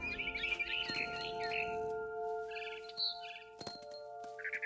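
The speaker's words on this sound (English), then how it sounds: "Then I heard chirping outside my window. It was a barn swallow going back to her nest." A barn swallow in the video game What Remains of Edith Finch chirps in short, high, scattered bursts over a low steady hum, with a few soft knocks in between.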